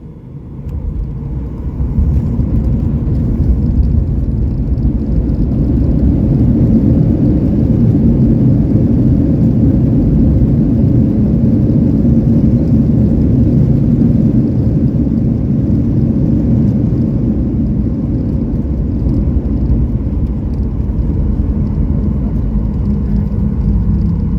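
Southwest Airlines jet landing at Las Vegas on runway 01L, heard from inside the cabin as a loud, steady low roar of engines and rumble that builds and holds throughout.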